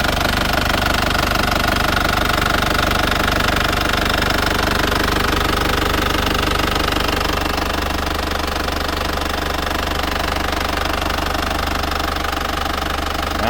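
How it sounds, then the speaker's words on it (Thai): A 1995 Isuzu TFR pickup's diesel engine idles with a steady, rapid rattling knock, close and unchanging for the whole stretch, with no voices. "เครื่องยนต์ทำงานดีมากครับ"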